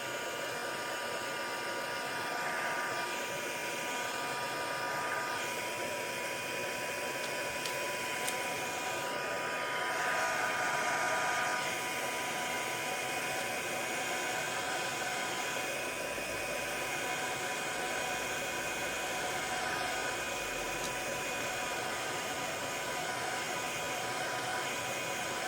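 A handheld hair dryer blows steadily and close, a continuous broadband whoosh on a freshly glued Christmas craft tag, running unbroken with no talk.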